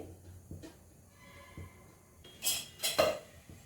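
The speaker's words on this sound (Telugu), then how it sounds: "ఇప్పుడు మనం స్టవ్ వెలిగించుకొని ఒక ప్యాన్ పెట్టుకోవాలండి" A pan is set down on a stove burner, giving a few close metallic clanks and clinks in a short burst near the end, with quiet kitchen background before.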